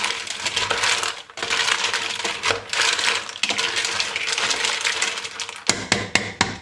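Ingredients in a cooking pot are stirred and remixed, giving repeated clattering, scraping knocks of a utensil against the pot, steady and close with a few sharper taps at the end.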